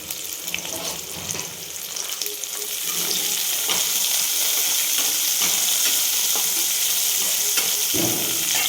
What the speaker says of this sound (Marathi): एक कांदा टाकणार आहे हे असे स्लाईसमध्ये कट करून घेतलेला आहे त्याला आपल्याला जास्त तळून घ्यायचा नाही